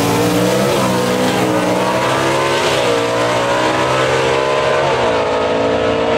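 Superstock drag race cars race down the strip at London Dragway in Kentucky, their engines roaring loud and close with rising, shifting harmonic whines as they accelerate through the gears.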